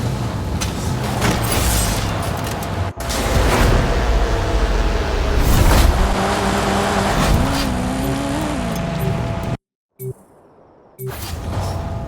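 A Camaro in a racing video game revs loudly through shifting engine tones, with tire squeal and skidding near the end, cut by a brief silent gap before the engine returns.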